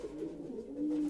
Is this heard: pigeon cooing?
yes